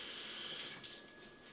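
Kitchen tap running water over a peeled onion, a steady, faint hiss of flowing water with a slight change in splash partway through, heard alone without talk.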